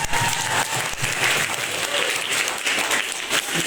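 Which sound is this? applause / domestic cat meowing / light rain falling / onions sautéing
applause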